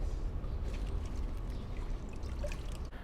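Water is wrung out of washed, rinsed helmet padding by hand, making a continuous soft trickling and dribbling splash up close, fairly quiet and without speech.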